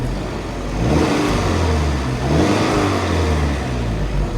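A Vauxhall Astra engine revving, fairly quiet with a stock exhaust; a close, steady mid-pitched drone rises and falls in two swells over a few seconds, with no talking.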